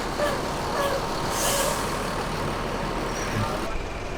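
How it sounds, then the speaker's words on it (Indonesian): A Telaga Indah Armada bus pulls away toward Pendopo, its engine rumbling steadily while a loud air-brake hiss bursts out midway, with general road noise throughout. "Bus Telaga Indah Armada langsung OTW Pendopo teman-teman"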